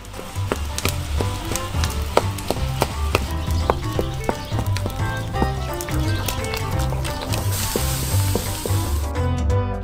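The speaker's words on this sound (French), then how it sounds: "Je les mets sur le poêle. J'écrase les baies avec une spatule." Berries covered in sugar cook in a pan on the stove while a spatula crushes them, giving a steady sizzle with repeated sharp scraping and tapping strikes throughout.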